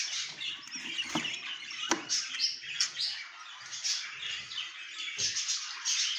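Pet birds and freshly hatched chicks chirp and tweet continuously in a breeding cage while the male feeds the young, with dense high twittering throughout and a few soft rustles and taps underneath.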